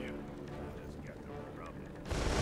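Gunfire in Resident Evil: Operation Raccoon City, Echo Six DLC, aimed at the red weak points on enemies. It is a dense, steady barrage of game combat noise that swells into a louder burst at the very end.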